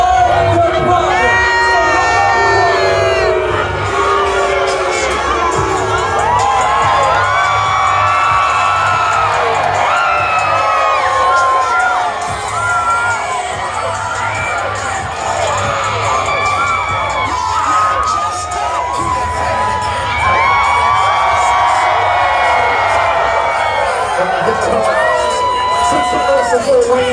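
A wrestling crowd cheers and shouts loudly and continuously, a dense mass of whoops, yells and high children's voices sustained throughout, with brief dips before swelling again.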